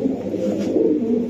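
Racing pigeons coo in low, throaty rolling calls close by, several overlapping phrases running continuously without talk.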